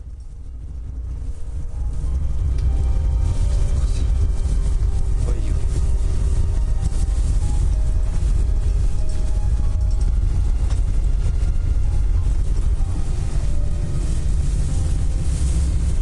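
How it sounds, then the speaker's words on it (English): A car driving on a rough road: a continuous low engine and tyre rumble with wind buffeting, steady and close for the whole stretch. "Noise of car on the rough road."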